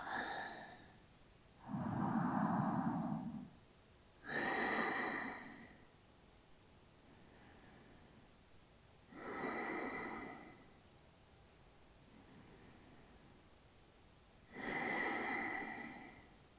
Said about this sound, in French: Toujours avec une respiration Ujjayi légère.